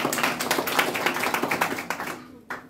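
A small group claps in a rapid, uneven patter of close hand claps that thins out and stops near the end, with a brief last clap after a pause.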